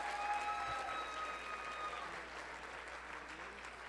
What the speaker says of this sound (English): Let's have a round of applause for all our winners.